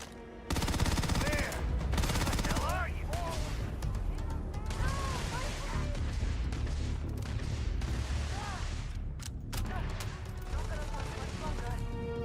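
Rapid gunfire in the video game Starfield, a dense, loud fusillade of overlapping shots and bursts that runs almost without pause for the whole stretch.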